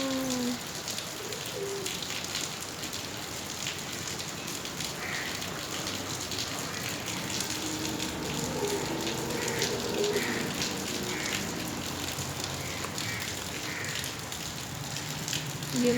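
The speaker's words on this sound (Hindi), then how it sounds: "तो अब मैं चलती हूँ बाहर क्योंकि बारिश हो रही है और मैं बारिश ज़रूर दिखाऊंगी" Steady rain falls outside a house in a soft, continuous hiss that holds evenly for the whole stretch, with faint bird calls now and then in the background and no talking.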